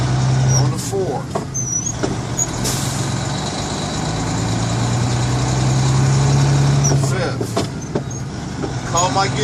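A truck pulling a trailer drones steadily after an upshift into fourth gear, its engine note rising smoothly under a continuous rumble, with short hisses and rattles breaking in near the start and end.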